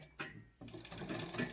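A foot-pedal sewing machine runs in short bursts, a brief whir, then a steadier rattling mechanical hum up close, with no talking.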